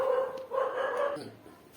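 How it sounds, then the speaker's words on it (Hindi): A dog barks loudly in a few close, harsh bursts over about a second, with a person's voice mixed in underneath. "कुत्ता तेज भौंकने लग गया है"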